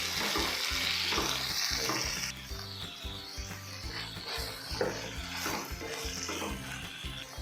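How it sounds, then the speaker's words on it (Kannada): Tomato and garlic fry in a pan for a flat bean curry, a steady close sizzle with rhythmic stirring scrapes throughout, loud and continuous with no talk. "ಸ್ವಲ್ಪ ಗಾರ್ಲಿಕ್ ಎಲ್ಲ ಚೆನ್ನಾಗಿ ಫ್ರೈ ಮಾಡ್ಕೋಬೇಕು."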